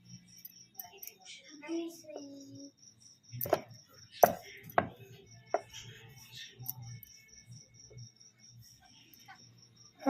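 A knife cuts rolled, oiled dough into pieces for kucho nimki. Several sharp, separate chops land irregularly on a board, with a faint voice and a steady insect-like whine in the background.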